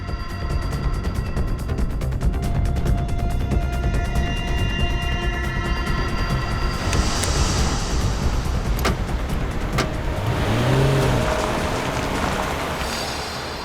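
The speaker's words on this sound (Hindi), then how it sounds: "इसने अचानक गाड़ी की स्पीड क्यों बढ़ा दी?" A vehicle's engine rumbles steadily and rises in pitch as it speeds up, with road noise and a faint whine, no talking.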